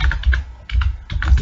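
Fingers typing C code on a computer keyboard, a close burst of quick key clicks in two or three short clusters with brief pauses between them.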